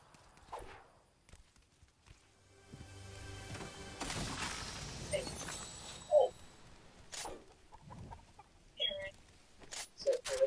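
Chicken clucking in the Fortnite video game, several short squawks scattered over a noisy game background with footsteps and other effects.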